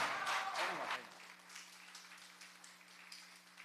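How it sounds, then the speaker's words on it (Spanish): Audience applause at the opening ceremony of a research congress, a dense burst of clapping that fades after the first second into lighter scattered claps, with a steady hum and voices beneath. "Aplausos"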